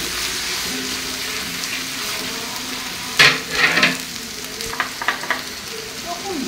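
Onion paste frying in a pan, a steady close sizzle broken after a few seconds by clattering stirring strokes and scrapes, no voices.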